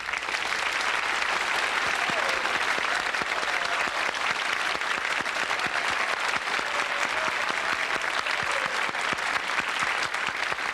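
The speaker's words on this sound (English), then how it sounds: "listen to that applause" Studio audience at a 1976 Lawrence Welk Show applauding to welcome Lois Lamont, a sustained dense round of clapping from many hands, even and full throughout, with a faint murmur beneath.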